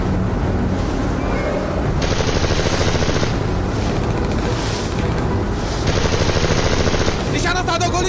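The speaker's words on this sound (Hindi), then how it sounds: "लेट्स गो, बंदूक चलाओ बंदूक चलाओ" Movie gunfire from an action battle, with bursts of rapid automatic shots in two clusters over a loud continuous roar of engines or wind, mixed with dubbed voices.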